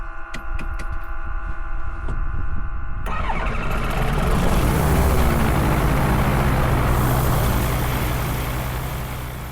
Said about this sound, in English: Prop start.